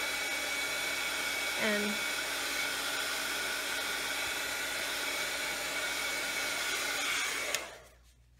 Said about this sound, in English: Just take your glue, your heat gun,